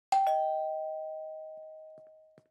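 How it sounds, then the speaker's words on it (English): A doorbell in a cartoon rings once with a clear two-tone ding-dong, the second tone ringing on and slowly decaying in a quiet room, with a couple of faint knocks near the end. "I'm being a rascal and ringing people's doorbells and running away."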